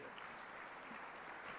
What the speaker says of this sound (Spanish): Vamos a recibirlo con un cariñoso aplauso